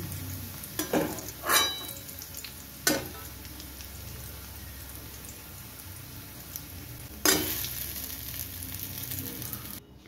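Sliced onions fry in oil for beresta, giving a quiet, steady sizzle close by. It is broken by a few sharp scrapes and clinks of a spatula against the pan.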